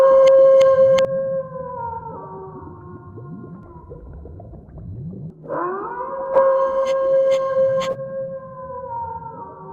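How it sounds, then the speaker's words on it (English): Howling effect from a Halloween joke CD: long wavering tonal wails that rise and fall, layered with whooping voices, a brief pause midway, then the drawn-out howls swell back in, loud and close. "here's that sound. Howling with laughter."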